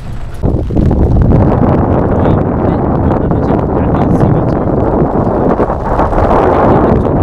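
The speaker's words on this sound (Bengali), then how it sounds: "চারিদিকে প্রচণ্ড বৃষ্টি পড়ছে, খুব হাওয়া দিচ্ছে" Strong wind and heavy rain at a beach roar as a dense, continuous rush, loud and close, buffeting the microphone throughout with no clear talking.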